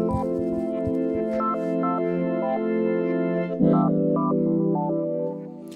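Sustained tones from a synthesizer patch, FM Chill Out, on a Montage 6, shaped by an envelope follower. Steady chords hold while short stepped melodic notes flicker above, playing loud and clear with no talking.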